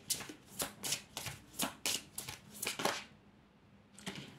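A deck of healing oracle cards being shuffled by hand, a quick run of crisp riffling bursts close to the microphone, then a pause and one more short shuffle.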